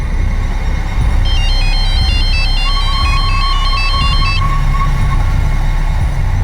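A phone's electronic ringtone plays a repeating melodic pattern, loud and close, over a low rumbling background.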